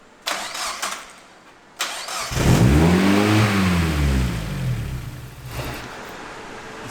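A home-built Exocet race car engine cranks in two short bursts, then fires and roars at a stuck wide-open throttle, a loud sustained rising-and-falling howl close by that eases slightly toward the end.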